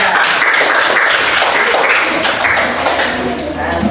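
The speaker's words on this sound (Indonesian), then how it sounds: "Tepuk tangan kita semua" A classroom of students claps together in a dense, steady patter that fills the space, with children's voices mixed in throughout.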